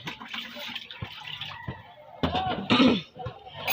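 Dishes being washed with tap water in a home, with running and splashing water, clinks and bursts of handling noise coming and going over a few seconds, close and moderately loud, and a voice talking in the background.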